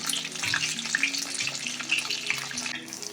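Fish fried in hot oil for a crispy fish fry, a steady close sizzle and crackle running throughout with faint scattered pops, no voices.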